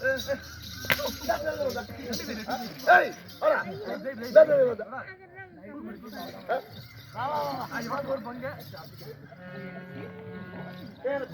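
Barking from dogs at a folk drama performance, with sharp repeated barks mixed among bleat-like animal cries and people talking nearby.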